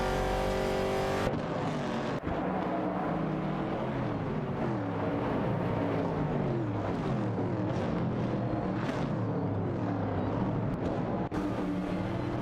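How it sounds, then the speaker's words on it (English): A 1969 Chevrolet Camaro and a 1970 AMC Javelin race in a video game, loud engines roaring continuously with pitch climbing and dropping through gear changes and a sharp shift near the start. "The Chevrolet Camaro 69 and AMC Javelin 70 are battling it out on the track."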